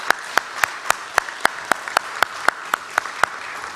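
A church congregation at a Sunday worship service claps together in unison, producing loud, crisp claps on a quick, regular beat that lasts a few seconds, with no voices over them.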